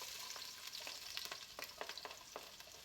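Chopped onion hitting hot oil in a pan, a steady close sizzle with scattered crackles and pops as it is stirred, no voices.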